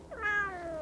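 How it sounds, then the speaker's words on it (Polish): Goku, a pet cat, gives a single clear meow, a short rising-then-falling tonal call lasting under a second, close and alone. "Goku też jest kotem, który bardzo często miauczy."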